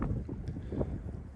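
Gusty outdoor wind buffets the microphone in a rough, continuous rumble during a disc golf throw into a headwind.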